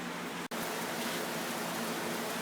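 Rain falling outside a home garage, a steady, even hiss of moderate loudness with a brief dropout near the start and no voices.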